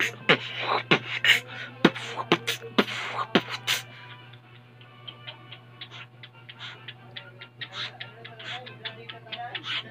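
A pet cockatiel beatboxes, a run of sharp rhythmic clicks and ticks, loud and spaced at first, then settling into quicker, softer clicking over a steady low hum.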